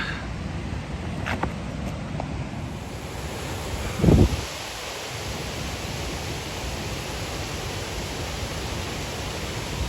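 A waterfall on a snowy hiking trail at Lake Tahoe gives a continuous broadband rush, with a brief muffled thump partway through.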